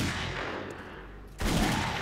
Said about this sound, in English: I forgot this gun's pretty strong, so we can go for body shots.